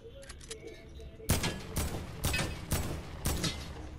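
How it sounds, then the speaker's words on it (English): Rapid bursts of video game gunfire from a squad shooter crack out in a series of about five sharp, loud shots spaced roughly half a second apart, following a few faint distant pops. "Why are you shooting?"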